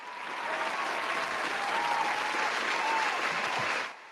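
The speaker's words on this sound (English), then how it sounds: "But round of applause." Sustained applause from a small audience on a sports podcast, even and moderately quiet, with a faint tone running underneath before the clapping cuts off abruptly at the end.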